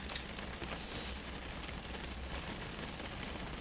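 Steady rain falling on a Majestic Dash-8 Q400 airliner in a flight simulator, a constant soft hiss that holds evenly throughout without any voices.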